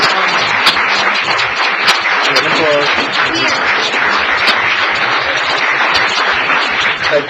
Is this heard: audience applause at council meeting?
yes